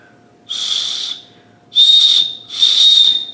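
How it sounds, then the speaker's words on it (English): Three sharp, shrill blasts on a small whistle built into a Light My Fire Swedish fire steel, loud and close, each lasting about half a second with airy hiss. "That's actually a pretty decent whistle to just be on a fire steel."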